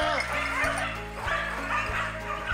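Hunting dogs yelp and bark excitedly during a wild boar drive hunt between vineyards and forest in Champagne, several close, loud, overlapping yips and whimpers repeating, with a voice mixed in.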